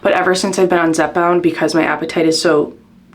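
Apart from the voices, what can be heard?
None of the usual background noises is heard.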